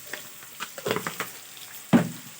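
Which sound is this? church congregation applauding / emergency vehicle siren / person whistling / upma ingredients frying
upma ingredients frying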